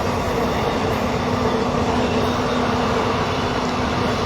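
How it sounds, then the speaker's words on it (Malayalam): A train passes on the railway track at a level crossing near Chullamukku, Trivandrum. It makes a loud, continuous rumble with a sustained wheel tone and faint clatter, close by and alone, without voices. "അതാ ട്രെയിൻ കടന്നുപോയി."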